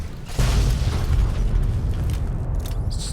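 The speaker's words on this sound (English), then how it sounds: "It's just a nuclear explosion." A nuclear explosion in a Fallout video game lands as a loud, deep boom, then settles into a sustained low rumbling roar that fills the whole stretch without any voices.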